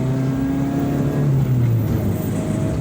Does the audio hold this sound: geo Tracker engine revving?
yes